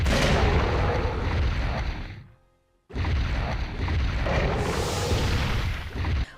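Heavy gunfire and explosive booms from shooting Nemesis in Resident Evil 3, a dense sustained barrage that cuts out briefly before roaring back loud.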